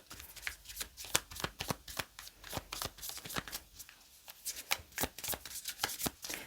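A deck of flower-language and message oracle cards being shuffled by hand, with rapid, repeated riffling flicks in an even rhythm, close and crisp throughout.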